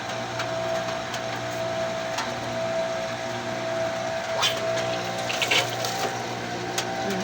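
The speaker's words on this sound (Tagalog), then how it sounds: "Pakinggan nyo po yung tunog ng motor." A small electric water pump motor runs steadily at a home water supply, giving an even droning hum with a faint watery hiss that continues unbroken throughout.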